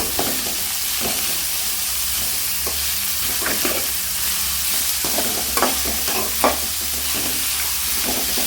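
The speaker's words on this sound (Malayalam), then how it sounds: "നന്നായിട്ടൊന്ന് ഇളക്കി ഒന്ന് വഴറ്റിയെടുക്കണം" Onions are stirred and sautéed in a hot pan with a continuous sizzle and frying hiss, while a utensil scrapes and knocks against the pan at irregular intervals.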